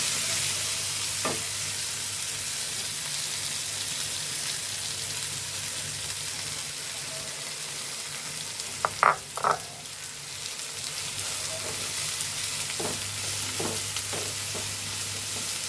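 Red amaranth leaves stir-fry in a pan with a steady soft sizzle, interrupted by a few louder clanks and scrapes of stirring around the middle and later on, with no talk.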